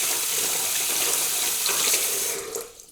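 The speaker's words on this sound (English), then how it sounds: "Now I just put in water, a little warmer than lukewarm." Warm tap water runs steadily into a container for dyeing silk fiber, a continuous close hiss and splash that tapers off and stops near the end.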